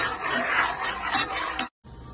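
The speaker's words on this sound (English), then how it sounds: "We mix with a metal spoon." Metal spoon stirring flour and chili powder in a hot pan, a continuous scraping, sizzling rasp that runs steadily for over a second and a half before cutting out briefly, then resuming more quietly.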